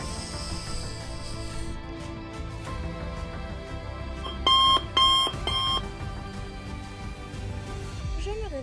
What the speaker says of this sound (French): je mets un réveil matin pour minuit soir